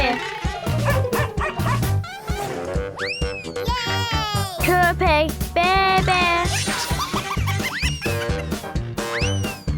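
Rapid, high-pitched yapping and whining barks from a small dog, repeated in bursts over a lively musical background with bouncy sound effects.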